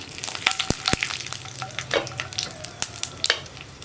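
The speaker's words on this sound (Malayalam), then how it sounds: "കടുക് പൊട്ടി കഴിയാറാവുമ്പോൾ നമുക്കിതിലേക്ക് ഒരു 2 വറ്റൽമുളക് മുറിച്ച് ചേർത്ത് കൊടുക്കാം." Loud, busy sizzling of spices frying in oil, with frequent sharp pops and crackles of seeds bursting close by.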